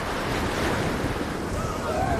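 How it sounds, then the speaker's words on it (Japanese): A storm with raging wind and rain, heard as a dense, steady roar of gusting wind and rushing water with no break. "雨と風がさらに激しさを増し、嵐と化すと、荒れ狂う風は木々をなぎ倒し"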